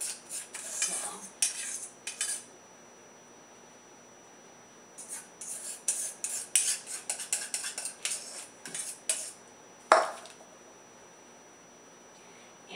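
Butter knife scraping and spreading across soaked, softened bread for bostock, in bursts of short rasping strokes with brief pauses and a sharp clink near the end; no talk.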